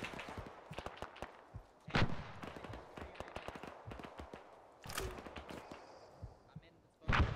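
Gunfire in the Arma 3 video game, with a 40mm grenade launcher being fired amid repeated shots and thumps, several loud bursts standing out, under continuous talk from players.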